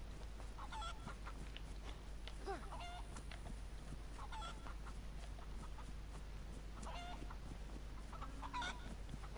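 Chickens and roosters in DayZ cluck and squawk in short repeated bursts over a steady low hum, fairly faint and close, with no talk over them.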